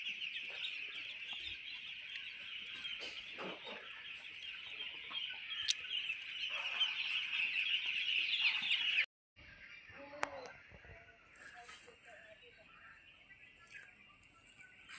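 Farm broiler chickens clucking and chattering in a crowded poultry shed, a continuous dense flock murmur with occasional sharper calls, fairly close, briefly cutting out partway before resuming more quietly.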